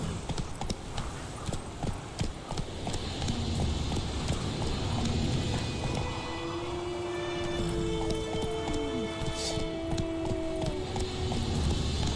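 Horse hooves clip-clop in a steady galloping rhythm in The Witcher 3 video game, loud and continuous, over game ambience with music-like tones; no talk heard.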